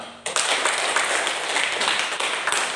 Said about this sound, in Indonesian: Ya, tepuk tangan juga untuk kamu semua.